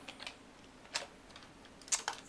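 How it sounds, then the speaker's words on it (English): Light keystrokes on a computer keyboard while coding, a few soft scattered taps and short bursts with pauses between them, quiet and close with no talking. "if I start to type LRN web components"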